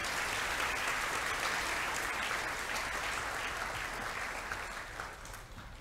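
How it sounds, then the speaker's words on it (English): A school assembly audience gives sustained applause for a homeroom class of boys, a continuous wash of many hands clapping at moderate distance that slowly tapers toward the end. "Could we give the boys of 7D a round of applause"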